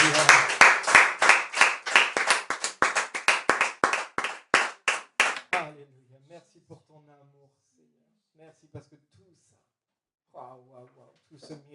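In a church, a congregation claps in loud, rhythmic unison for about five seconds, then the clapping stops and scattered voices and acclamations follow quietly.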